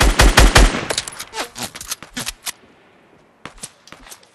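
Gunfire in Fortnite Battle Royale, a loud rapid burst of shots at the start followed by scattered single and paired shots, then a short pause and a few more sharp reports.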